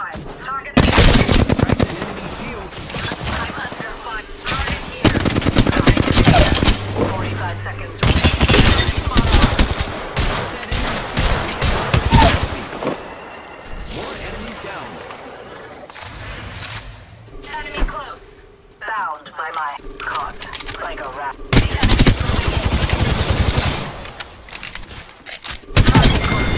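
Video game gunfire in Apex Legends during a Season 14 match, loud bursts of rapid automatic shots and single cracks in repeated volleys with short gaps, while a game character's voice speaks over the action.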